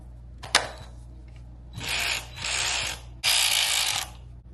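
A cordless ratchet that runs on DeWalt 20-volt batteries whirs in three short bursts after a sharp click, its motor and gears buzzing close up with brief pauses between runs.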